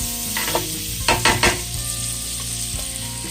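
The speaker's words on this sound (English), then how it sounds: "Stir it around till the onions are nice and glistening." Onions sautéing in avocado or coconut oil in a pan while being stirred, a steady sizzle with a few sharper scraping bursts of the utensil around the middle, close up and alone.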